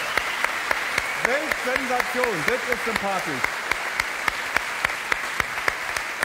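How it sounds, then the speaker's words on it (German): Studio audience at a German late-night comedy show gives sparse, evenly spaced claps, quiet and steady under someone talking briefly in the middle. "Das ist ein Applaus wert, meine sehr verehrten Damen und Herren."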